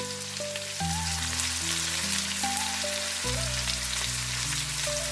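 Chopped onion and potato frying in hot oil for a fish-head and cabbage curry, with a steady, close sizzle under soft tonal music.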